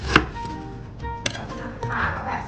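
Several crisp knife chops through fresh lemongrass on a cutting board, a sharp strike at the start and a few softer cuts that follow unevenly, close up, with a brief murmur of voices.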